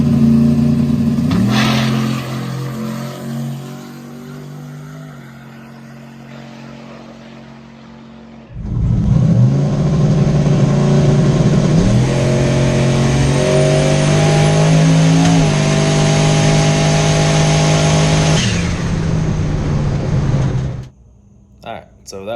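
A Chevrolet S10 truck makes a drag racing pass at a no-prep event, its engine revving briefly before launching into a long, loud pull with rising pitch through the gears, then cutting off abruptly, with voices heard over it.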